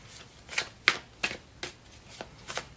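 Everyday Witch Tarot cards being shuffled nearby, with six or seven soft, quick riffling bursts at a steady rhythm and no talk.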